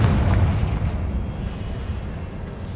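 A Confringo fire spell going off in Hogwarts Legacy, heard as a loud, sustained boom that rolls on as a low, dense rumble and slowly fades over a few seconds.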